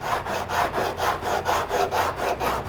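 Steady back-and-forth sanding on an epoxy-filled door surface where a rotten hole left by a door handle was repaired, rhythmic abrasive strokes about four per second, close and fairly loud, no voices.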